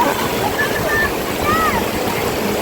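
Water flows and rushes steadily at Sahastradhara waterfall, a continuous broad wash close by with faint voices and bird-like chirps over it.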